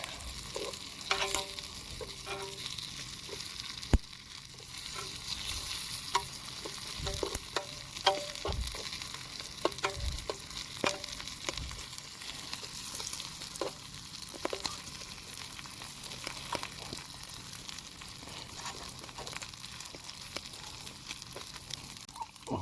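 Sausage and peppers sizzle and crackle steadily in a hot pan on a camp stove, with scattered scraping and clicking from stirring throughout.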